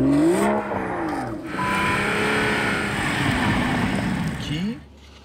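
A Toyota Supra with an inline-six twin-turbo engine revs hard, its pitch sweeping up and down through quick gear changes, loud and close, with a brief drop near the end.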